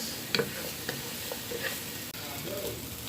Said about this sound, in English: I'm going to add the beans and the carrots